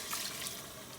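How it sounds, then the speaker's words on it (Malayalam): Water pours steadily into a cooking pot while making carrot rice, a close, continuous splashing rush with no talk. "അപ്പോൾ ഒരു 4 കപ്പ് വെള്ളം ഒഴിക്കുന്നു."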